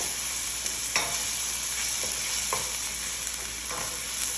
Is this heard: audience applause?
no